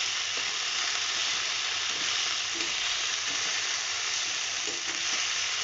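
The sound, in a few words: frying soybean chunks for aloo posto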